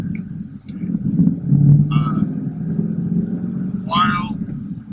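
A manual Ford Mustang fitted with an aftermarket shifter bracket, heard from inside while driving, with a steady low road rumble and drone and a couple of brief buzzy rattles sticking out above it.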